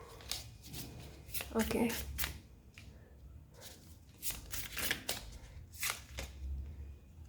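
Tarot cards shuffled by hand in repeated soft riffling bursts, close and moderately quiet, with someone talking intermittently over and between them.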